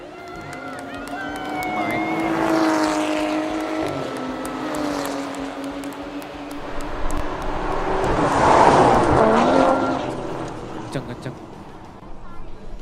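Drag race cars at the Sentul circuit in Bogor roar loudly, their engine and exhaust notes rising through the gears as they accelerate and pass, with crowd noise and voices in the background.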